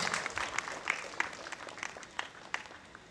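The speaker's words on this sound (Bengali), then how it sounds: "একটু জোরে হাততালি হোক" An audience claps for small child dancers in a Bengali dance-drama by Rabindranath Tagore, the applause quiet, scattered and uneven, with a few sharper individual claps standing out.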